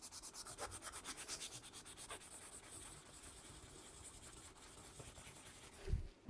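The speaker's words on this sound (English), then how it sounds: "now I want to clean it with some alcohol just to get it clean," An Apple IIc monitor part is rubbed clean with alcohol, a soft rhythmic scrubbing that starts in quick strokes and then settles into a fainter steady rub, ending with a brief knock.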